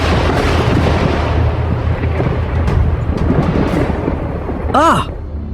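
A loud, sustained rumble of thunder rolls through the whole clip, deep and close, with a brief higher tonal sweep near the end.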